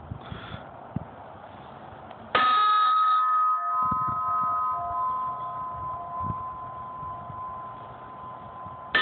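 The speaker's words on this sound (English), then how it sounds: "This is take three of testing the gong" A steel gong target is struck once with a sharp metallic hit, then rings with a steady, clear tone that decays slowly over several seconds.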